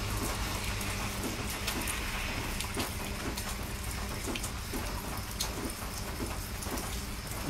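Heavy, steady rain pouring and pattering on surfaces, a dense continuous hiss with scattered louder drops, no voices.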